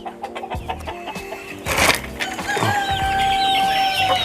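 Chickens in a backyard coop at the front of a house cluck and squawk close by around feeding time in the late afternoon, with a rooster-like crow rising over the flock as the noise builds.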